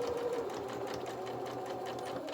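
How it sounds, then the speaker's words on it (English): A sewing machine runs in one continuous, close, steady whir, stitching reverse and then forward across the seam of a fabric Easter bunny treat bag. "So reverse, and then stitch forward,"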